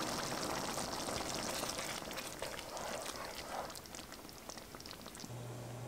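Jjajang black bean sauce boiling in a pan, a soft steady bubbling and popping throughout, fairly quiet, with no talk.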